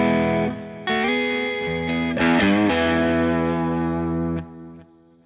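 Electric guitar chords with overdrive ring out through stereo delay and reverb, wide and echoing, several strums sustaining and overlapping before fading.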